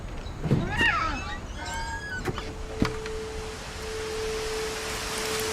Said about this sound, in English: Oh, I hear a cat.